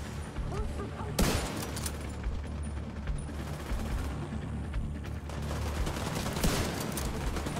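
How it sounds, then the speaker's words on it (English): Rifle fire in the shooter game The Division 2, heavy booming shots over a dense, continuous game soundscape of rumbling action and background noise. "And we'll use the sniper rifle."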